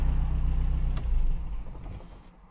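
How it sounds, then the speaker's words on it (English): A car engine idles with a low steady rumble, then cuts off and fades to quiet. "so we'll turn the engine off."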